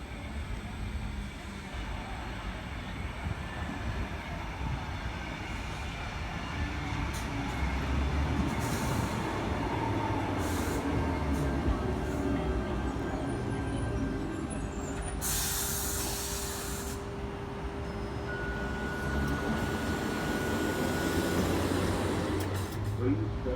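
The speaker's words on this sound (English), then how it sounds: "Bondi Junction service arriving into platform 4" A Sydney Trains T42 set arrives at platform 4 at Rockdale station on a Bondi Junction service, with a steady rumbling roll, squealing brakes and a loud hiss of air near the end, heard close on the platform.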